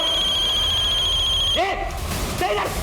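An electronic phone rings with a steady high trill that stops abruptly, followed by brief voices speaking.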